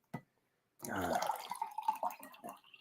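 Water pouring from a Brita filter jug, a faint short splash followed by a steadier gurgling pour into a container, close and quiet in an indoor room.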